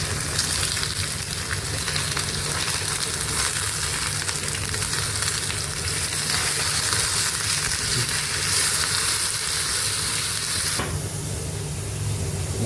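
Egg and potato fry in a hot pan with a steady, loud sizzle and hiss that runs the whole time, shifting slightly near the end as the food is stirred.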